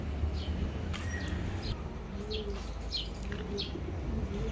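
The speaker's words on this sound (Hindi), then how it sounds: "ये हमारे ग्रीजर कबूतर हैं, ज़बरदस्त नस्ल के" Grizzle pigeons of a strong breed coo softly outdoors, a few low repeated coos over steady background noise, with faint chirps from other birds nearby.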